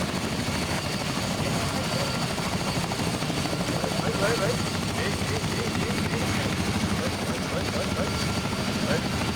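A steady, droning aircraft engine in the video game ArmA III hums continuously, constant and moderately loud, with faint talk under it.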